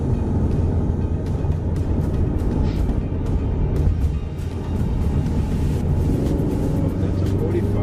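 A Ford Mustang's engine rumbles steadily under acceleration on the road in Dallas, a continuous low drone with road noise and no pauses.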